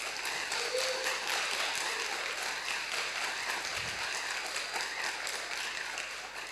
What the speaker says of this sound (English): I ask for a big round of applause to everyone here.